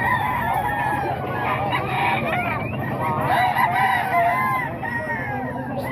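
Many roosters and hens at a gamefowl seller's yard in Bocaue crow and cluck at once, dense overlapping calls filling the space nearby with no pause.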